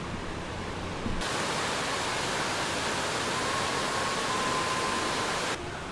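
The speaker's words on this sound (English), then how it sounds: "I can hear the mix of the fountain and the Korean karaoke behind me" Steady broadband splashing of a fountain fills the scene continuously at Montreal's Old Port; faint Korean karaoke music with a sustained tone sits far behind it.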